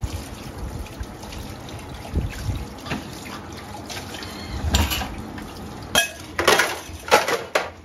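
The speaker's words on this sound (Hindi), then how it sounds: "उसी दौरान मैंने बर्तन भी धोना स्टार्ट कर दी" Dishes washed under running tap water in a home kitchen in Pakistan, with a steady trickle and splash of water and intermittent clinks of dishes being handled close by.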